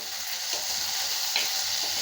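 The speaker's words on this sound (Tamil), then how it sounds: "இது நல்லா தக்காளி மசிகிற அளவுக்கு நல்லா வதங்கட்டுங்க" Tomatoes sauté in a hot pan for an okra and tamarind kojju, giving a steady close sizzle with soft stirring scrapes throughout, no voices.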